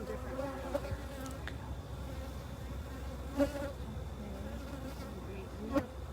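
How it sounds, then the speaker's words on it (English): A continuous, dense buzz of many honey bees up close in a hive, some slightly agitated, droning steadily with a couple of louder passes. "there's some bees in here that are a little bit not as like calm. You can hear them."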